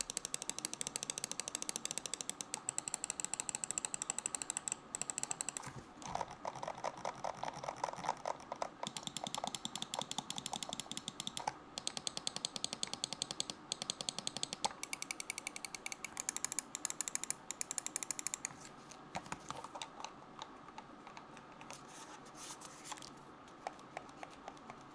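SteelSeries Rival 3 mouse main buttons with KLGM 4.0 switches, clicked rapidly in a long, steady run of light, crisp, tactile clicks, close and fairly quiet, with no talking.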